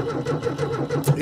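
An old VW Beetle engine cranks over from a starter jumped straight to the battery, a rapid rhythmic chugging of the starter turning the engine, loud and close for just over a second.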